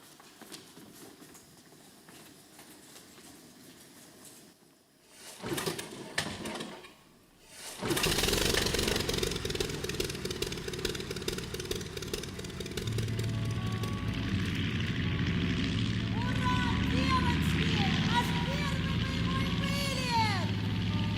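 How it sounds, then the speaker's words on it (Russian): Propeller plane engine starting as a stage sound effect in a community theatre play about wartime women bomber pilots: a few sputtering bursts, then a loud, steady droning roar that holds to the end. "Заводи мотор!"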